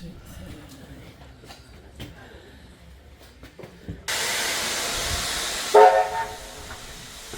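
A heritage train departs Thirlmere station, heard first as a low, faint rumble of the carriages, then a loud sustained hiss with a short horn or whistle blast partway through, with people talking nearby.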